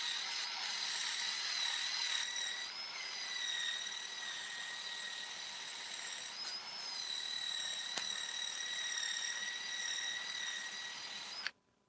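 A cordless drill spins at maximum speed while working on a Ford F150 brake caliper, giving a steady high-pitched whine that continues for about eleven seconds, fairly close, then cuts off abruptly.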